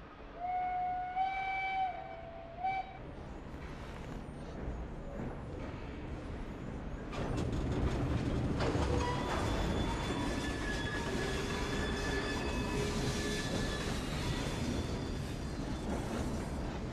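A train in the Assassin's Creed Syndicate video game opens with a whistle blast, then rumbles and clatters steadily with squealing wheels and metallic creaks. The sound is loud and continuous, with no speech.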